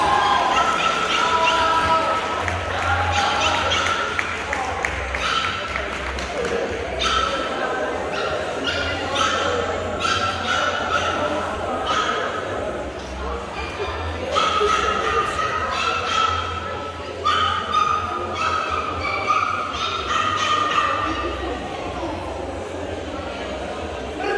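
Dogs yip, whimper and bark intermittently at a best-in-category dog show, the sounds scattered through a busy, steady crowd murmur.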